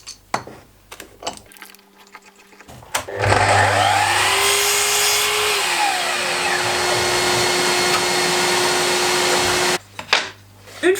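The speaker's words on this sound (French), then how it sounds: "on va découper en fonction des dimensions réelles de la planche" A power tool cuts through a wooden plank: a few quiet knocks and handling sounds, then a loud, sustained whining cut of several seconds with a dipping then steady tone, ending abruptly before more light clatter.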